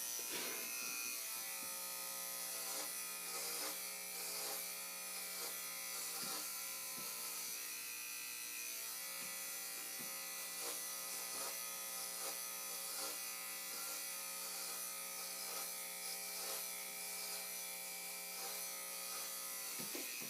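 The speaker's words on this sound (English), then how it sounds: "keep clippering until you no longer hear the clippers cut hair" Electric hair clippers cutting hair buzz steadily and continuously for twenty seconds, a faint, even drone with small crackles as the blades pass through hair, with no voices.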